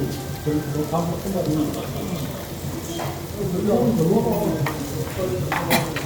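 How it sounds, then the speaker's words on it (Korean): Rice stir-fried in a pan at a Gangneung restaurant, a steady scraping and sizzling that runs throughout under lively overlapping chatter from people at the table. "밥도 볶아줘야"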